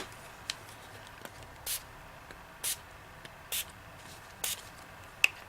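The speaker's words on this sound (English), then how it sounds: "Let's see what happens if I spray it again." Five short, sharp spritzes from a spray bottle onto teabag art, evenly spaced, close and fairly quiet against a hushed background.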